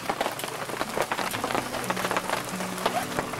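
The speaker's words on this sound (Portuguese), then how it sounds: "Olha só a quantidade de pedra caindo." Hailstones falling in a storm beside a river, a dense, continuous patter of ice pellets striking surfaces nearby, steady and moderately loud throughout.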